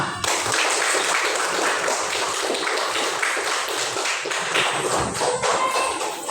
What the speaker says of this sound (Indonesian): Nah, tepuk tangan semua.